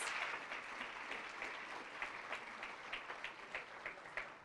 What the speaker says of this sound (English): Let's give both of them another round of applause.